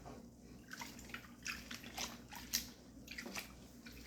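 Quiet bubbling and soft wet squishes as freshly harvested kale is pressed down in water for cleaning, irregular gurgles close by, no voices.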